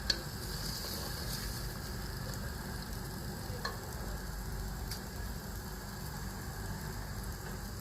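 Tomatoes fry in a pan over a raised flame, giving a steady, even sizzle that stays close and continuous from start to end with no talk.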